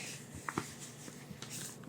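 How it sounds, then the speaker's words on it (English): Paper being handled up close in a quiet room, a faint soft rustle with a couple of small crisp crinkles and light taps, gentle and intimate with no talking. "messing around with some paper."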